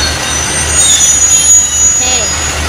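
A train at Hua Lamphong station in Bangkok, a steady low rumble with wind noise and a faint high wheel squeal, heard close and continuous with no talk.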